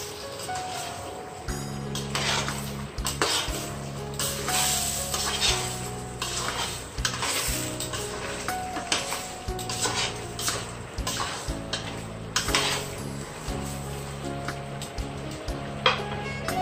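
Chicken and pork humba is stirred in a pan, with repeated scraping and clattering of a utensil against the metal over a soft sizzle, close and fairly loud in irregular bursts, with no talk.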